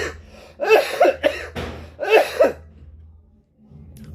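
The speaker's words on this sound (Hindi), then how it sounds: "खांसी काफी बढ़ी हुई" Close, loud fits of coughing in several rough bursts with brief pauses between them, over a low steady hum.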